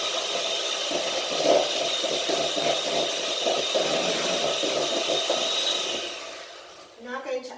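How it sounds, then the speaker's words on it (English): An electric food mixer whisks egg for a chocolate orange sponge, a loud, steady whirring drone close by for about six seconds before it cuts out, followed by a moment of voice. "I'm going to whisk it with my food mixer, my trusty food mixer."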